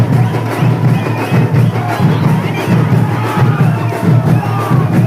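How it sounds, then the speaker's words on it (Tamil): Village crowd shouting and cheering joyfully at a festival where a man is possessed while dressed as Kali, a loud dense roar of many voices continuing throughout with a rhythmic low pulse underneath. "அதனால அந்த ஊர் மக்கள்லாம் எவ்வளவு சந்தோஷமா கத்துறாங்கன்னு பாருங்க"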